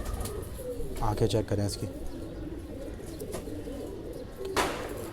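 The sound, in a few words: pigeons cooing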